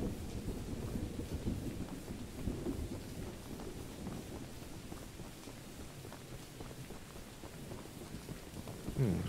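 Steady rain from the video game Choo Choo Charles, a continuous dense patter with low rumbling beneath, moderately quiet and unbroken, no voices.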